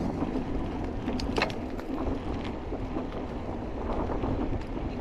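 Wind buffets the microphone during a ride on an electric bike through open countryside, a steady broadband rush with low rumbling gusts that holds loud and continuous from start to end.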